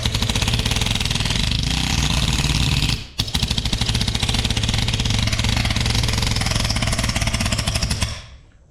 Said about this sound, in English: for a mini planishing hammer, it works out really cool.